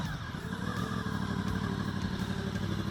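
A Honda VFR800 Interceptor motorcycle engine idles steadily, a dense, even rumble with a fine mechanical clatter running throughout, close and constant with no voices.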